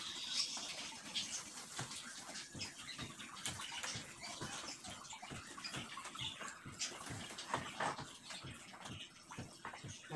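A dog that is afraid to swim splashes and churns in water, making continuous, fairly faint sloshing with uneven bursts and no clear pauses.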